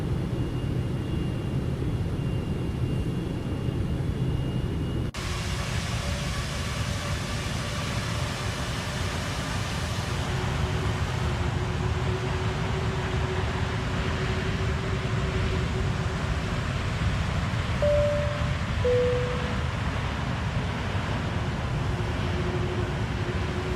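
Boeing 777-200ER jet engines in the X-Plane 12 flight simulator give a steady, broadband roar with a faint tonal whine that rises and shifts in pitch, continuous and fairly loud with no voices.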